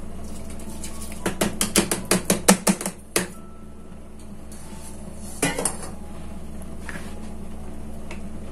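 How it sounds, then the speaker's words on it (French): Dry rice poured into a pot of milk for rice pudding, a quick run of sharp clinks and rattles against the pot over about two seconds, then a couple of softer knocks, with no talking. "Notre lait, on va y ajouter le riz."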